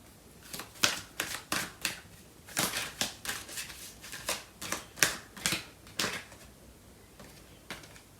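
Tarot cards are shuffled in a quick, fairly regular series of crisp riffling snaps and slaps, close and soft, with brief pauses between bursts.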